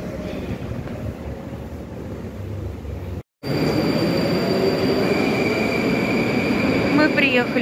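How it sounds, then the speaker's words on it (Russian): Continuous loud rumble and clatter of a Moscow metro train in motion, with a brief drop-out and a faint wheel squeal rising near the end. "И спускаемся с Аленой в метро."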